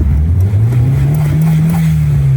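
An abandoned Nissan 240SX, driven for the first time in ten years, idles loudly and close in a small parking lot, its engine note rising steadily into a sustained hum during a three-point turn.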